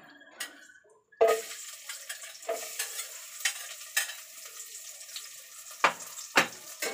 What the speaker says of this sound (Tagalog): Igigisa na natin yung ating kare-kare.